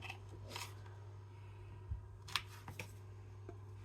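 Thick marzipan for a Christmas cake is cut around a shape, giving faint, sparse snipping and cutting sounds in a quiet room.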